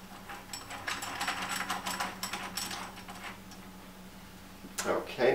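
A Phillips screwdriver drives a screw into a replacement mounting handle, giving rapid ratcheting clicks and scraping turns in bursts with a mechanical hum beneath, ending in a sharper clatter.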